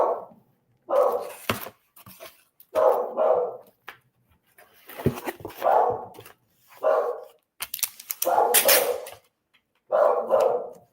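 An Australian cattle dog / beagle mix barks repeatedly up close, loud single and double barks in an irregular rhythm over about ten seconds, with clatter and short pauses between.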